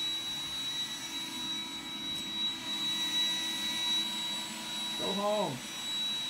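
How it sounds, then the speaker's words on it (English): A Roomba robot vacuum runs with a steady, whirring mechanical drone and a thin high whine throughout, while a voice speaks briefly near the end. "Roomba, this is not the time to vacuum."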